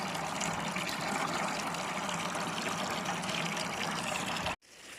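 Water gushes from a hose into a container for keeping fish, a loud, continuous rushing flow that cuts off abruptly and leaves a quieter trickle.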